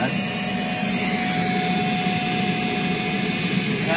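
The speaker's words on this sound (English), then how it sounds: "So when we actually turn on the vacuum" A Clarke Focus S20 floor scrubber's vacuum motor runs with a steady, loud, even whine and roar that holds constant throughout, with someone speaking over it.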